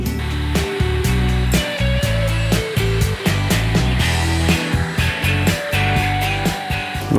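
A hair dryer blows continuously, close and loud, while drying hair set under a net, with its pitch and airflow shifting repeatedly as it is moved around the head.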